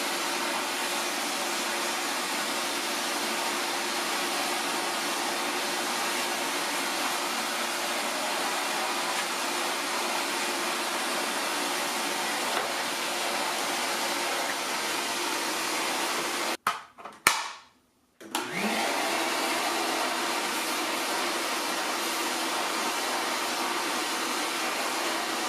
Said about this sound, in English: As you can see, the brush picks up a lot of the hair and other bigger stuff on the carpet.